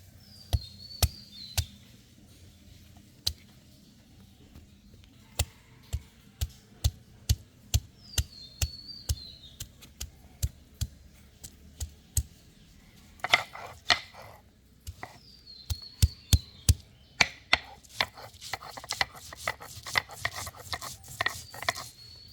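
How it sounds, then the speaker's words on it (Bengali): Raw wood apple is ground on a stone slab with a stone roller in a village setting. Rhythmic sharp knocks and gritty rubbing repeat steadily, with faint birdsong in the background and no speech. "এখন আমরা শিলপাটা বেটে নেব।"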